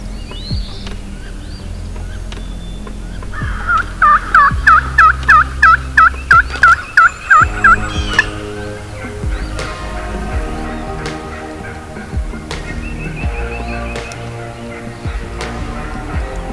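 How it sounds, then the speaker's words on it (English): Wild turkeys on the roost at sunup give a loud burst of about a dozen rapid gobbling calls, quite close, amid other bird calls and a low background hum before and after. "We heard turkeys gobbling"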